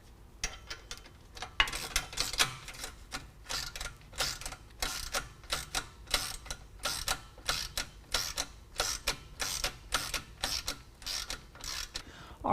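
A 15mm ratchet clicks in quick, regular bursts while snugging a 2.25-inch band clamp on a Borla S-Type exhaust on a 2017 Ford F-150, making close, crisp repeated ratcheting with short pauses and no speech.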